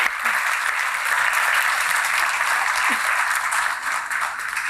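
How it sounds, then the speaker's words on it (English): A lecture audience gives sustained applause for a panel of speakers, dense continuous clapping from many hands at steady volume throughout, with no voices over it. "please, a round of applause for all the speakers"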